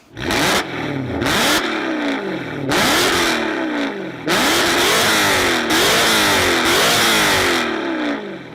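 A BMW M3 with a custom valved exhaust revs hard in repeated sharp bursts, each rise and fall of the engine loud and close, with brief pauses between blips and no talking.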